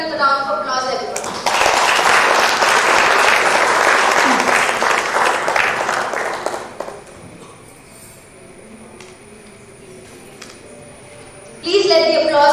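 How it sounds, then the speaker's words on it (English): Audience applause fills a hall at a national architects' conference, a loud burst of clapping lasting several seconds before thinning out into quieter room murmur, with voices briefly heard at the start and end. "let's welcome them with a round of applause, everyone"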